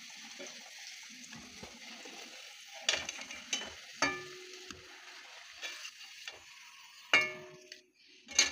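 Potatoes frying in a pan for a home-style country chicken dish, a soft steady sizzle broken by several sharp scraping stirs and clinks of a spatula, close and fairly quiet with no talking.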